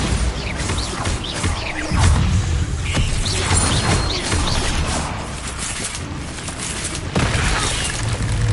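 Bombarda blasting spell in the Hogwarts Legacy video game: booming, crashing explosions over a dense, busy game soundscape, with sharper impacts around the two- and seven-second marks.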